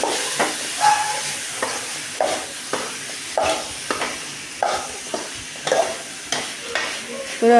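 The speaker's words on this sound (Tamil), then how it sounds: "ஒரு ரெண்டு நிமிஷம் மாதிரி நம்ம எண்ணெயிலே வதக்கணும்" Masala sautéing in oil for a country-chicken curry, a steady sizzle broken by repeated scraping stirs at a regular pace, close and fairly loud.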